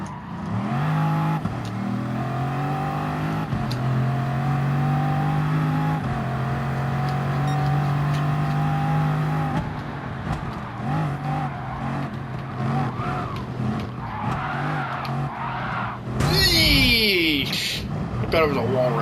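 Engine of a rear-wheel-drive race car near 1,000 horsepower, droning loud and steady with rising and falling revs, brief tire squeal near the end, talk running underneath throughout.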